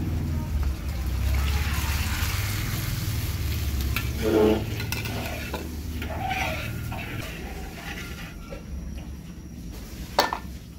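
First-press coconut milk poured into wild cabbage cooking in a pan, giving a steady sizzle and bubbling with some stirring, close and fairly loud, fading near the end.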